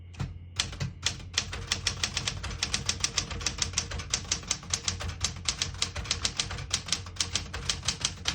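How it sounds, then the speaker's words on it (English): A 1972 Smith-Corona Galaxie Twelve portable typewriter types in red on a new line, with fast, evenly spaced key strikes clacking close and crisp over a faint background hum, continuous for several seconds. "I'll type a sentence in red on the next line with the switch."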